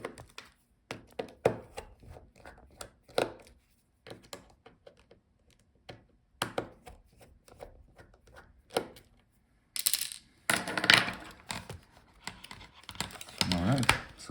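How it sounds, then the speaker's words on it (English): Screws are removed from the palmrest of an Asus Q547F laptop with a screwdriver, making sparse small clicks and scrapes, with bursts of louder handling noise toward the end. "Let's take out these screws on the top."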